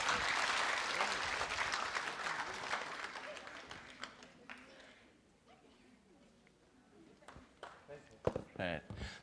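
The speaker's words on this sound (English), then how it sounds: "A round of applause, please." An audience at an entrepreneurial fair claps in a dense burst that fades over about four seconds, leaving quiet room noise with a few scattered claps and faint voices.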